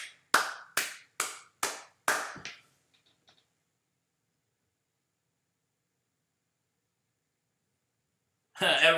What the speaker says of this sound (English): We'll clap again for that one.